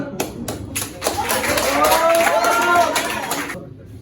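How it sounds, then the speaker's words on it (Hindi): Clapping at a coaching institute's New Year party for a best student award, distinct claps building into a fuller round, with people talking and cheering over it. "जोरदार तालियां।"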